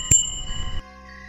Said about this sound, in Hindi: कंडक्टर ने फिर से बस की घंटी बजाई।